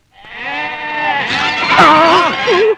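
Hungry goats beside a pond bleat loudly and close by, in a long wavering call that rises and falls with a second cry overlapping near the end.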